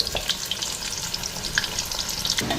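Small goat-fat fritters (bora) frying in hot oil, a close, lively crackle and spatter with sharp popping bursts scattered over a continuous sizzle, no speech.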